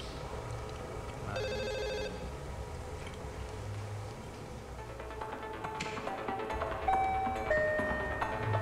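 A telephone rings in a crime drama film, its bell sounding in a short burst of rings and then fainter repeated tones over a low, hushed background with some musical notes.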